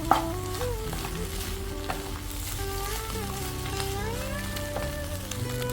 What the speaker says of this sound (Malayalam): ബീഫ് ഒന്ന് വെള്ളമൊക്കെ വറ്റി നന്നായിട്ട് ഡ്രൈ ആവുന്നത് വരെ നമുക്കൊന്ന് ഇളക്കി കൊടുക്കാം